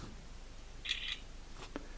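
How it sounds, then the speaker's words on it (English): A quiet, quick shutter click from a Campark 4K action camera taking a still, with a faint soft mechanical tick after it, against a low background hiss. "You can hear the shutter go there quietly."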